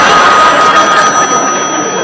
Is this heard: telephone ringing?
yes